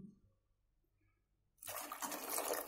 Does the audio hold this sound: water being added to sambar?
yes